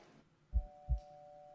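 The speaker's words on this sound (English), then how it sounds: "Oh, there's the heartbeat again." Two low, soft heartbeat thuds about a third of a second apart, used as a sound effect in an anime episode, with a faint steady tone beneath.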